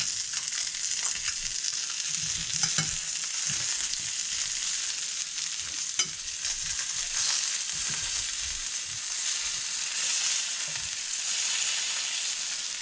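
Muscovy duck breast sears in a greasy pan, crackling and sizzling continuously with scattered pops and occasional stirring clatter, close and fairly loud.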